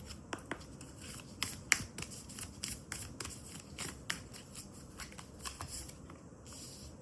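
Tarot cards being shuffled and drawn by hand: crisp, irregular riffling snaps and flicks at close range, with quiet gaps between the bursts and no talking.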